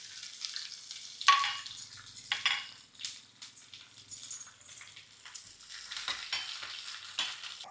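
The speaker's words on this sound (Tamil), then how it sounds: "இப்போ பாருங்கள், கருவேப்பிலை வெங்காயமும் போட்டுடலாம்." Shallots and curry leaves crackle as they fry in a clay pot while mushroom gravy is made, a soft steady sizzle broken by repeated scrapes and stirs of a spoon against the pot.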